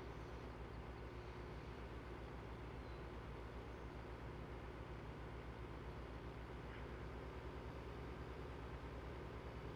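Steady low engine drone of a tractor in Farming Simulator 2015, running continuously at an even level with a constant rumble and no talk over it.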